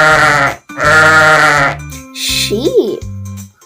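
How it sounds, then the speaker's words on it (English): Sheep bleating in a clear, loud series of wavering calls, some overlapping a voice, with a short tonal squeak near the end; speech is also present. "Sheep. A sheep is a mommy or a daddy."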